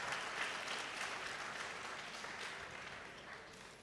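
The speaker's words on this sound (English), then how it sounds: "Please, can we give them another round of applause, both the moderators and then the panel members" A symposium audience at a KCCR anniversary celebration claps steadily for moderators and panel members; the applause sounds fairly quiet and distant and tapers slightly toward the end.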